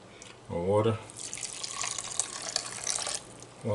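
Water poured into a steel saucepan holding turmeric, a steady splashing pour under a low background hum, with a voice speaking briefly near the start.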